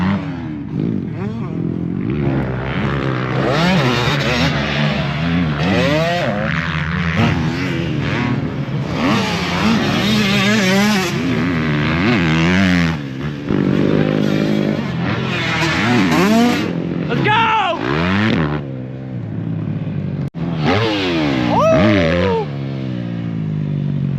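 Motocross dirt bikes racing on a track at County Line MX, engines revving and whining up and down through repeated acceleration sweeps, loud and near, with riders talking over them at times.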